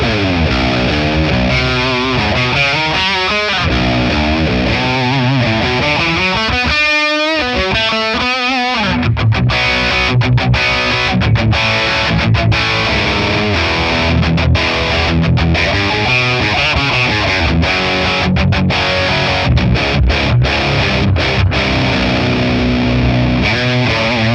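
A 7-string electric guitar played through a ToneX ONE high-gain amp model with no reverb, loud and continuous with heavy distortion, sustained chords giving way to fast chugging palm-muted riffs.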